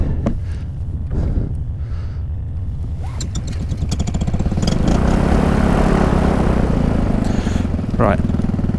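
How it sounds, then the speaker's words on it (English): Small two-stroke paramotor engine on the Yorkshire Moors cranks, catches and rises into a loud, steady buzzing drone up close, after a few rough sputtering attempts with talk early on. "Let's try that again. Okay, let's get this engine started again."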